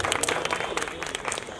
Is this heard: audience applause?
yes